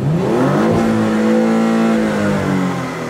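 A Porsche Panamera with only a straight pipe for an exhaust revs hard, its loud raw engine note climbing, holding high and easing back down, close to the microphone.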